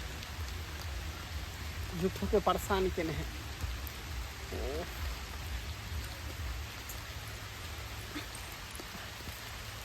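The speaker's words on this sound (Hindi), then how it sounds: "हैं बारिश भऽ रहल है" Steady rain pours outdoors in a village setting, a constant hiss of drops under brief bursts of talk from a couple of voices.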